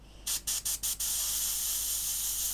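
Short airbrush bursts of Mr. Paint onto a model test square: four quick puffs of hiss, then one steady continuous spray, close and fairly quiet with no talking.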